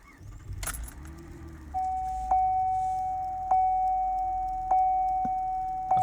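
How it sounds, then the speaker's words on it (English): A Cadillac CTS Sport starting up, a faint thump and rustle followed by a clear repeating chime ringing four or five times at a steady interval, close and alone in a quiet cabin. "I'm gonna go ahead and start this vehicle up so you guys can see just how crisp and clear these gauges are"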